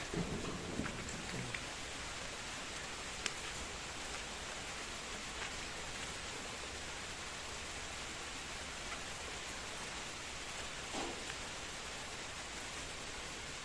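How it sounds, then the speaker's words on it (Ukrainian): Steady, even rain hiss over a lake near the village of Petryk fills the whole stretch at a moderate distance, with a few faint knocks early on and no voices. "Що там, йде дощ?"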